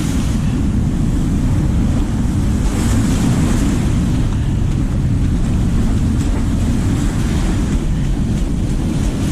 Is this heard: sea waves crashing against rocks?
yes